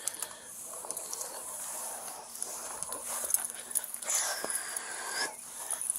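A blind and deaf dog being handled by a police officer whimpers and pants in short, irregular squeaks and breaths, close by over a noisy background with rustling.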